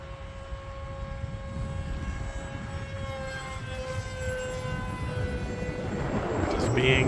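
A HobbyZone Aeroscout RC airplane flies in gusty wind, its steady motor whine holding tonal lines over heavy low wind rumble, growing slightly louder toward the end.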